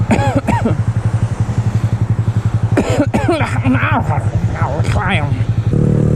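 A motorcycle riding through downtown streets, its engine thrumming in a steady low pulse with rises as it revs, heard close up under a rider talking throughout.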